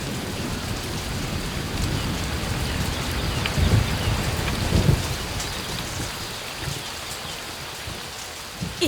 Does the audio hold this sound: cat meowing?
no